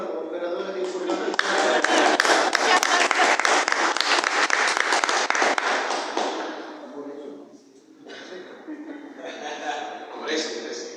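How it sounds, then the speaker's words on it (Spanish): An audience applauding for information operators, several seconds of dense clapping from a crowd, then a brief pause and scattered claps with murmuring voices. "Un aplauso para los operadores de información."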